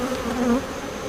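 Honeybees at an open hive during a humid July inspection give a brief, close, droning buzz with a wavering pitch.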